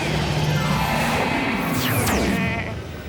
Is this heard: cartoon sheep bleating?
yes